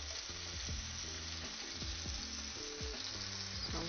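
A salmon fillet pan-searing gives a steady, dense, close sizzle throughout, with faint low bumps over it and no talk.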